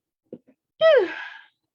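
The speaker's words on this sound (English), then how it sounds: "You never know when a sneeze is going to get you" A single sneeze: two faint sharp intakes, then one loud burst trailing into a short voiced tail, alone in silence.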